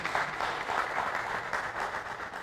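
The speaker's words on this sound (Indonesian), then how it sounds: "Tepuk tangan semuanya." Audience applause at an Indonesian political talk event, steady broadband clapping from a crowd filling the whole short stretch at moderate level, with no voices over it.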